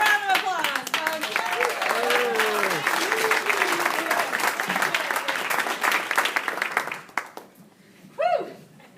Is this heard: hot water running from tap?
no